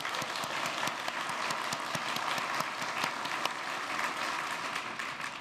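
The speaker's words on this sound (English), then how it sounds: "could you give a round of applause?" A community event audience gives a sustained round of applause, dense steady clapping filling the room at even loudness from start to finish, with no talk over it.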